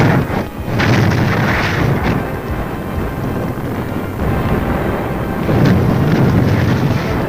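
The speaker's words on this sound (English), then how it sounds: "The troops finish the job with grenades and flamethrowers." Grenade explosions in old army film footage, a loud, dense continuous rumbling roar with heavy low-end bursts, a short dip early on and another surge near the end, no talk.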